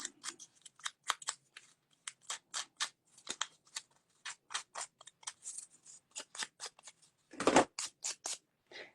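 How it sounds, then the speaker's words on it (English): Scissors rough up the edge of a bee and honeycomb plaque, making a quick run of crisp snipping and scraping strokes, close up, with one louder crunchy cut near the end. "Now I'm going to take my scissors and I'm just going to rough up this edge a little bit."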